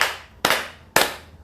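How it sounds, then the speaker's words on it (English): Three sharp hand claps spaced about half a second apart, each a crisp broadband smack with a short decaying tail, heard alone with no talking. "you should start by clapping"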